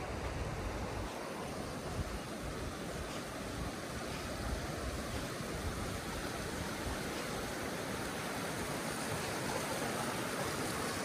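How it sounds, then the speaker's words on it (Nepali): A mountain stream rushes steadily through Yumthang Valley in North Sikkim, a dense, continuous broadband roar of flowing water that stays close and unchanging throughout, with no voices. "यहाँ चाहिँ खोला रहेछ."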